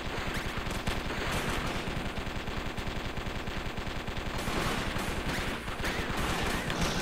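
Rapid machine-gun gunfire from the video game Circuit Breakers, dense sustained bursts that fill the whole stretch, loud and continuous with brief shifts in intensity.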